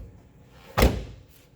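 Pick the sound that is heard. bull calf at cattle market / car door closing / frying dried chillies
car door closing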